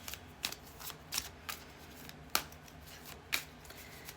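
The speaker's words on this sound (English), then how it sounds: "Shuffling for ya," A tarot card deck is shuffled by hand in a quiet room, giving soft riffling bursts spaced about a second apart, with a few sharper card snaps standing out.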